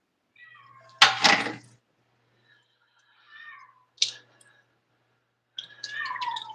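A female cat in heat meows and yowls in several separate calls, loud and close, with quiet pauses between them and no talking.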